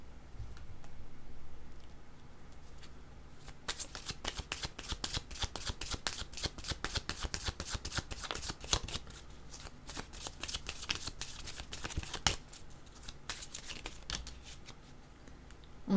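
Tarot cards being shuffled: after a quiet opening, a dense run of crisp riffling card flicks starts around four seconds in and continues steadily to the end, close and clear with no talking.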